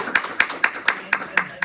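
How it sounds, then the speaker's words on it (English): An audience claps in a round of applause at a talk on an equity plan, heard as quick, evenly spaced claps, fairly close and brief. "give a round of applause"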